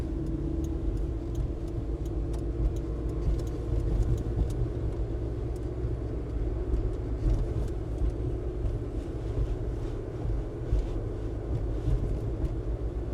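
A 1998 Suzuki Carry 4x4 kei truck drives along a road, heard from inside the cab as a steady, low engine and road drone with faint ticking over it and no speech.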